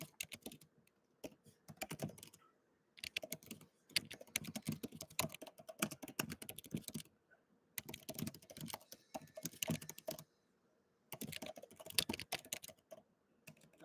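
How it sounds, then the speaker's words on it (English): Steady stretches of computer keyboard typing, near and soft, coming in long runs of quick key clicks separated by brief silent gaps. "I've got to type."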